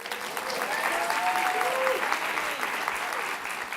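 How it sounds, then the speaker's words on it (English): An audience at a food and agriculture policy summit claps steadily in a dense, sustained round of applause, with a faint voice or two sounding briefly beneath it. "Please give her a round of applause."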